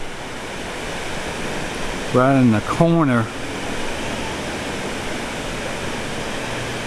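Water pours down a dam at historic Prattville, Alabama, a steady, dense roar filling the whole clip while someone speaks briefly in the middle.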